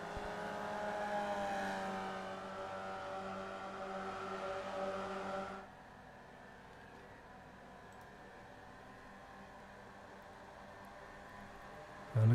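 Formula Vee race cars at Brands Hatch drone past, engines whining at steady pitch then fading into distant circuit ambience, with faint broadcast background and no clear talking.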